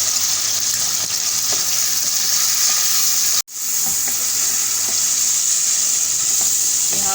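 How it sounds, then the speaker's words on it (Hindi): Tomatoes sizzle loudly in a pan with golden fried onions, a steady close hiss of frying that dips for an instant and then carries on, with no one talking. "अब हम इसमें टमाटर डालेंगे और इसको भी मैं सॉफ्ट कर लूँगी।"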